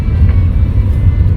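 A car gives off a steady, loud low rumble close by, droning on without a break and with no voices over it.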